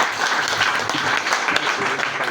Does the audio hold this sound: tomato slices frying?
no